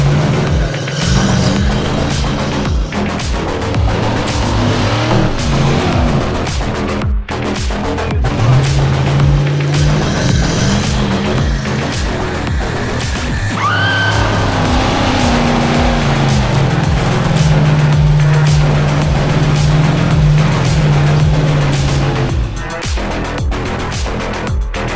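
A Mercedes G-Class SUV climbs a steep hill with its engine revving hard and continuously, the pitch rising and falling as the throttle works, loud and close throughout with some wind and rumble.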